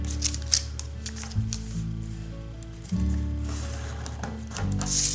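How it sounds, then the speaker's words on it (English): Paper creased and folded for an origami kite shape, with close crisp rustles, scrapes and soft crinkles in short irregular bursts over a low background hum. "we're gonna take this edge and fold it to the middle"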